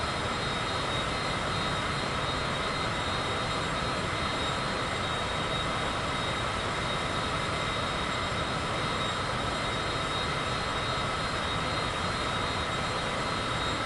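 Steady broadband drone of an airplane engine cruising at altitude in Microsoft Flight Simulator 2024, a continuous unbroken roar with no voices.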